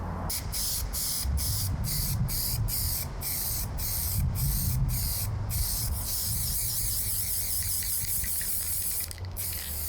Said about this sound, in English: it's final time to cover this boat fully with the primer